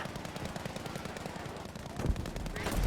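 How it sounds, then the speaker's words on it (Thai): Gunfire in the Battlefield V first-person shooter, a dense, steady clatter of rapid shots throughout with a louder burst of nearby fire or a blast near the end. "อุ้ยมีตัวที่มันยิงมา"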